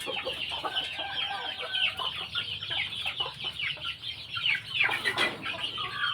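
Fighting-breed chickens clucking in a farm pen, a busy overlapping chorus of clucks and short calls at close range, continuous with no talk.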